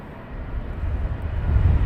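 A Saudi airliner taxis out at Heathrow Airport, heard as a low, steady jet engine rumble that slowly swells in loudness over two seconds, with no voices.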